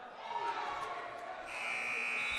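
A scoreboard buzzer sounds at the end of the first quarter of a girls' varsity high school basketball game, a steady electronic tone heard over gym crowd noise and a commentator's voice.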